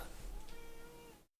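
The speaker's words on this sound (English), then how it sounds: "Yeah, you can hear the meow, can you?" Cat meowing indoors, a single drawn-out tonal meow that sits fairly close and is clearly heard before the sound cuts off abruptly.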